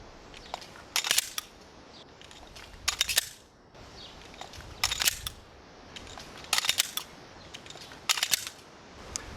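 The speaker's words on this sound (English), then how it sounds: "let's see if we've actually met our goal of being able to reload the gun before the magazine hits the ground" Airsoft pistol tactical reload drill: sharp metallic clacks and rattles come in short bursts roughly every one to two seconds, the magazine swaps and drops standing out clearly above a quiet background with no talk.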